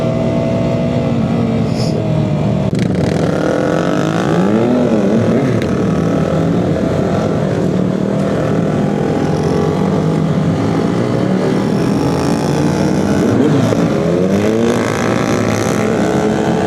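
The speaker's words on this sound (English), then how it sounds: "That bike that just pulled up" A motorcycle engine drones close and loud throughout a group ride, its pitch sweeping up and down with revving as the bike pulls up, all over steady road and wind rush.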